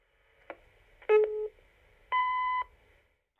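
A telephone answering system sounds a short click followed by two clear electronic beep tones, spaced about a second apart, quiet background otherwise.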